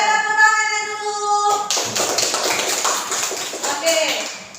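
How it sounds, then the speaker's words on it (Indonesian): Children clapping in unison in a classroom, a quick burst of hand claps following a teacher's sustained voice, with kids chattering around it. "Oke, tepuk tangannya dulu."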